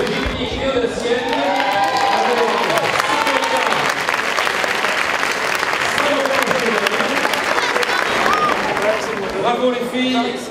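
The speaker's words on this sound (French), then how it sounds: "bravo les filles, on les applaudit très chaleureusement" A large audience at a 2014 sports awards ceremony applauds a school gymnastics class with long, dense, loud clapping that runs unbroken throughout, while an announcer's voice sounds over it.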